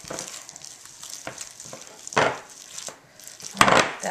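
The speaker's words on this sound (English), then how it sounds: "Let's get it really mixed up." A crab ball mixture with chunks of cream cheese and spices being stirred and mashed together in a bowl, giving soft, uneven squelching scrapes with a few louder slaps of the spoon, close and with no talk.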